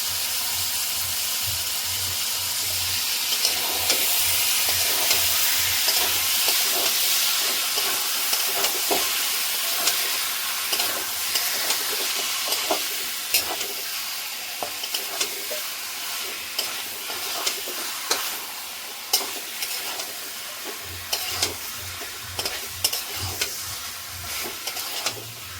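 Chicken pieces with yogurt frying in spiced oil for chicken kosha, a constant sizzle broken by repeated spoon strokes and scraping against the pan, louder at first and easing later.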